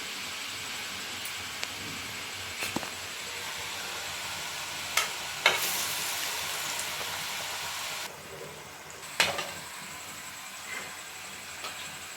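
Murukku frying in hot oil for Diwali, a steady hiss of bubbling oil with a few sharp clicks and clatters, the sizzle dropping slightly partway through.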